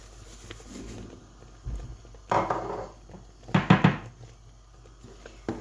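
Apricot jam being stirred with sugar in a pot, giving soft scraping and a few clinks of a spoon against the pot in short irregular bursts, fairly quiet.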